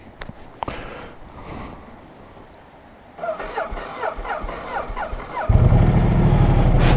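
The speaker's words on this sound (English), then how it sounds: "Starting the engine multistrada style." An Italian Ducati Multistrada motorcycle engine cranks with a rapid ticking starter, then catches and settles into a loud, close idle after a few quiet knocks.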